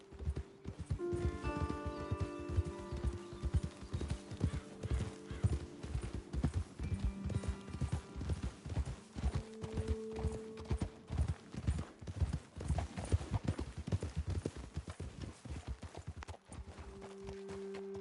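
Horses in Red Dead Redemption 2 move with rapid, steady hoofbeats close by for the whole stretch, with occasional neighs and whinnies over the rhythmic clopping.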